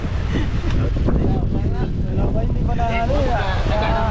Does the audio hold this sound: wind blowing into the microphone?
yes